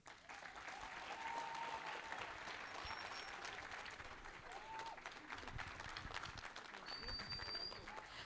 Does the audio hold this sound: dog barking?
no